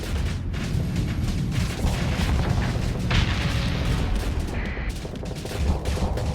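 Rapid weapon fire from spaceships in the Starsector game, dense overlapping booms and bursts running continuously throughout at steady loudness, with no talk.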